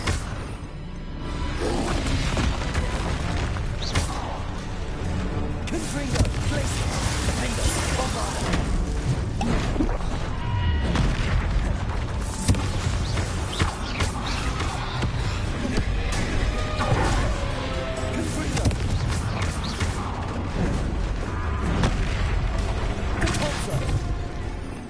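Confringo, the explosive blasting curse in the Hogwarts Legacy video game on PS5, is cast amid dense, continuous combat audio: whooshes, booming impacts and crashes layered over game music, loud throughout with a player's voice over it.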